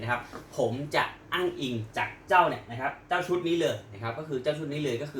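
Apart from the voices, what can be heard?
No distinct noise like a dog, phone or traffic.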